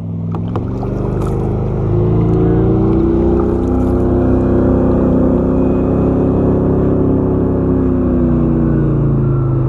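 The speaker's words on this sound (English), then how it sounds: "I don't know if you can hear that idling. It sounds like a loud truck. That's actually a boat over at the boat launch." A motorboat idles at a launch on Phillips Lake, Maine, its deep, steady rumble like a loud truck carrying across the water, rising slightly after the first couple of seconds and holding loud and even throughout.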